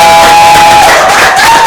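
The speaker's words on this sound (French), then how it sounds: "Vos applaudissements, s'il vous plaît." Applause and cheering from an audience at a ceremony naming the best journalist in the Democratic Republic of the Congo, a loud sustained crowd roar with clapping, mixed with a tonal background sound.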